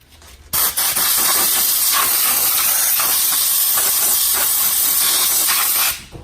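A strong, steady hiss of compressed air blasts for about five seconds while cleaning the brake caliper brackets of a 2011-2017 Hyundai Elantra, starting abruptly and cutting off cleanly.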